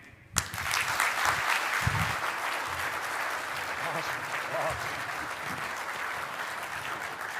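Audience applause at the Land Forces Pacific event breaks out suddenly after a sharp onset and continues as a dense, sustained clapping roar, with voices faintly mixed beneath.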